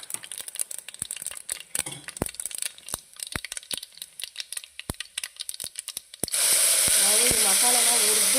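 Ground masala goes into a hot garlic tempering in a pan for Mandya-style basaru with green gram and greens. Scattered crackling pops give way to a sudden loud, steady, close sizzle that continues to the end.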